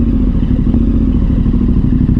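Chain on a KTM 1290 Super Adventure R, slack and slapping against its chain sliders while riding slowly, a dense rapid clatter and thumping over engine drone, loud and close throughout.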